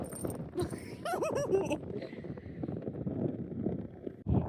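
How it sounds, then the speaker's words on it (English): Wind gusts across the microphone on the Oregon coast, a low buffeting rumble under a voice speaking close by throughout. "It's a bit breezy out here, so hopefully you guys can hear me."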